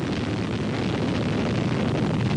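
Roar of a nuclear bomb explosion in old declassified colour archive footage from Britain's first atomic test, a steady, dense low rumble sustained throughout with no voices.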